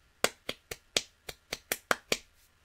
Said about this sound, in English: Are you sure you're clapping over there?